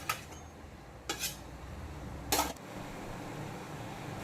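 A metal lid set onto a cooking pot over a full flame while a spiced gourd dish cooks, giving a few sharp clinks and clatters, one louder knock near the end, against a steady low kitchen hum.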